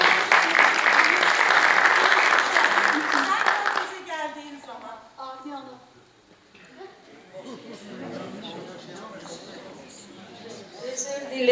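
Loud applause from a crowd fills the first few seconds, then fades as a voice begins talking over quieter room sound.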